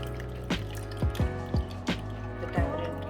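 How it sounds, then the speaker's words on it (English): Dal cooking water for carrot and tomato rasam pours and drips into a pot in a few distinct splashy drops and short glugs, close by and fairly quiet, with a steady background hum. "I'm adding the dal water."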